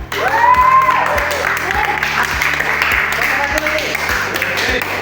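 A class of schoolchildren applauds together during a lesson, dense steady clapping filling the room with voices and chatter mixed in throughout.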